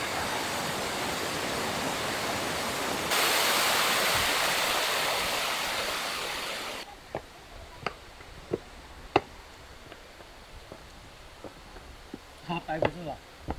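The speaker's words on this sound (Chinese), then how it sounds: "先要过个小溪" A small stream flows at the entrance to a Hakka tulou village in Yongding, Longyan, Fujian, its loud, rushing wash filling the first half and then dropping to a softer background under scattered clicks and footsteps.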